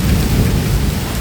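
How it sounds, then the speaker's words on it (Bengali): Heavy rain and hail pour down during a thunderstorm in Bologna, a loud, dense, steady roar with deep low rumbling throughout and no voices. "প্রচুর বৃষ্টি হচ্ছে।"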